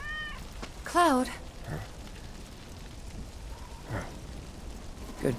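A cat in Final Fantasy VII Remake lets out one clear, close meow, followed by quieter scattered sounds over a soft, rain-like background hiss.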